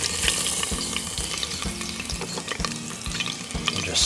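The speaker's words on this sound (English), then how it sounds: "to the heated olive oil, we're gonna add 2 cloves of crushed garlic" Crushed garlic sizzles in heated olive oil, a dense and steady frying crackle under regular scraping strokes from a utensil stirring the pan, with no voices.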